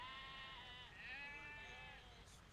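Sheep in a farming video game bleat in overlapping, drawn-out calls, loud and close, with several voices layered together and no talk over them.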